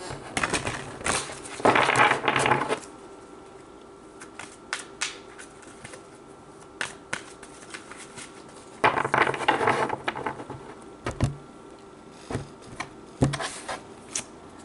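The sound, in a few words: handling and pulling Indigo Angel oracle cards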